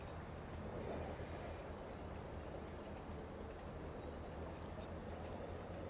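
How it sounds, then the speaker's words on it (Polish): A train reverses in the Farming Simulator 22 video game, a faint continuous rumble of rolling rail wagons with a brief high whine early on. "Trzeba cofnąć pociągiem, aby rogatki się podniosły i załadować sorgo."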